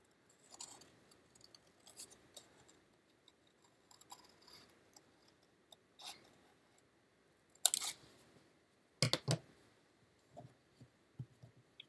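Scissors snip out a paper groundhog figure for a pop-up card, giving a few faint, scattered cuts in a quiet room, with two sharper bursts of snipping near the end.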